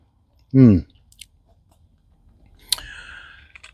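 Someone biting into a crisp self-seeded nasturtium leaf, giving one short, close crunchy bite followed by quieter chewing and faint mouth sounds.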